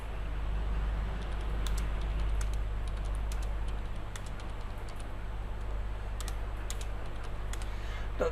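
Numbers are typed on a computer keyboard while filling in a Microsoft Excel sheet. The quick, light key clicks come in bursts over a steady low hum.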